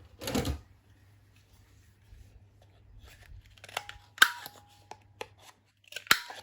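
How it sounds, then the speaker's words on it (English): A We Are Memory Keepers corner rounder punch cutting the corner of a paper tag, soft crisp crunches and clicks of the punch, faint and close, with a rustle of handling paper at the start. "This is a We Are Memory Keepers corner rounder punch, and it has 3 different size to do your corners as well."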